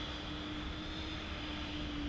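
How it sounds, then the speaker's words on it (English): Steady, loud drone of a nearby plane engine in Flight Simulator 2024, with a sustained tonal hum over continuous broadband noise and no talking. "And of course we're going to have a loud plane next to us."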